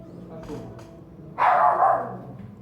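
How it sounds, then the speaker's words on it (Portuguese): A dog lets out a short, loud burst of barking midway through, close by, after a few moments of quieter background voice. "Cachorro."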